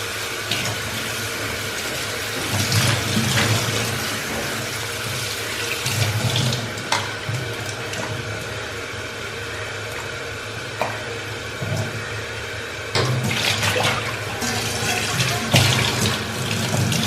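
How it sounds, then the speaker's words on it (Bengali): Kitchen tap water pours steadily into a sink while eggplants are rinsed, a continuous close splashing rush with occasional louder sloshes as the vegetables are handled. "ততক্ষণ আমি সিদ্ধ হতে হতে বেগুনগুলো ধুয়ে নিই।"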